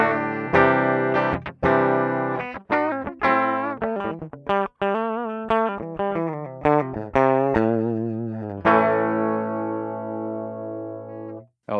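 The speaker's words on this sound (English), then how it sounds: "There's nothing on it, so you can hear the raw guitar tones." An EVH SA-126 electric guitar played clean through its bridge pickup with no effects, raw and close, with a run of quick picked notes and chords in varied rhythm that ends on a long ringing chord.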